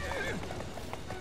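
A horse in the video game Assassin's Creed Syndicate gives a short, close whinny, followed by light clip-clopping hooves, with a voice speaking faintly underneath.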